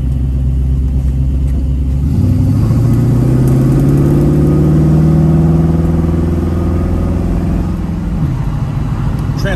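A loud 1969 Pontiac Trans Am engine rumbles close by, pitch climbing smoothly as it accelerates, then dropping after a shift, with steady road noise.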